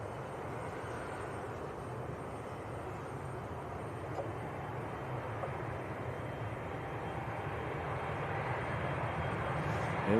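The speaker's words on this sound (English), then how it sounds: "KLM just revving the engines up." A KLM Embraer E175 jet revs its engines at an airport, a broad steady roar from a distance that builds gradually and grows slightly louder toward the end, with no voices.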